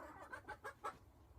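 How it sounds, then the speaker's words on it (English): Chickens near a shed clucking in a quick series of four or five soft, close clucks, fairly quiet against a low background hum. "Noisy chickens."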